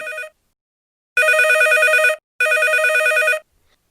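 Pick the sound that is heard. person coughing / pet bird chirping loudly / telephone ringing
telephone ringing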